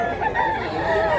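Roosters crow and chickens cluck continuously at a busy outdoor chicken market in Mantalungon, Cebu, the calls overlapping close by over a dense crowd murmur.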